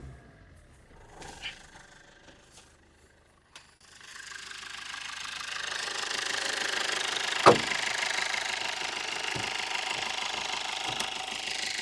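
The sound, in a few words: Maruti Swift Dzire VDI diesel engine running with bonnet open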